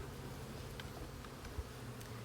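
Honeybees buzz at the hive on a mild day: a steady, even drone of many insects with a few louder passes of single bees close by, no speech.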